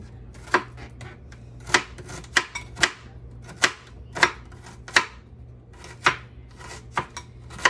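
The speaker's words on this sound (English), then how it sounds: "I'm just going to slice it all, and then I'm going to cut it in half" Shrimp sliced with a knife on a cutting board: a dozen or so crisp, close knife strikes in a loose, uneven rhythm against a quiet background.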